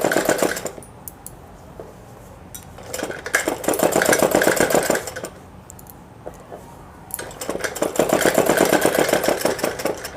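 A sewing machine stitches a suit in repeated bursts of rapid mechanical ticking and whirring, separated by brief pauses, close and fairly loud.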